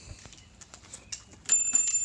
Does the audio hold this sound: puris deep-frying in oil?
no